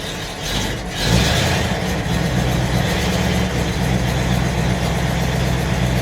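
A 1964 Mercury car engine with an old-style choke idles steadily while warming up, a close, even low rumble that continues without pause and with no talking.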